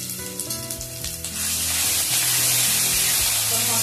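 Grated, chopped tomato hits hot oil in a pan for Bengali macher kalia with katla or rui fish, bursting into a loud, steady sizzle that swells and holds.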